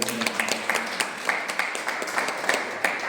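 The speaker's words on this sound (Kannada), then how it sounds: "ಎಲ್ಲರೂ ಅವ್ರಿಗೆ ಚಪ್ಪಾಳೆ ಮುಖಾಂತರ ನಾವು ಧನ್ಯವಾದ" A gathered audience claps in thanks at a devotional community event, a moderate run of scattered, uneven hand claps heard fairly close throughout.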